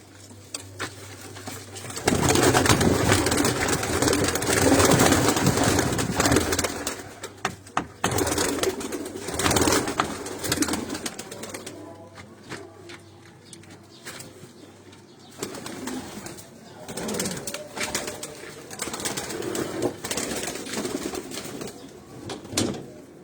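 Rooftop pigeons coo and rustle as a handler lifts them out of their loft, with soft flapping and shuffling noises, fairly close and continuous.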